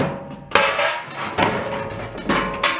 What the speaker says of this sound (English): We'll hammer on it a little bit more.